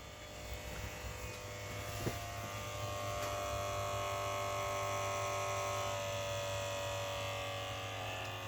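Teves ABS hydraulic pump on a Jaguar XJS V12 buzzing steadily with a mechanical hum, growing louder after a few seconds and shifting pitch as system pressure builds.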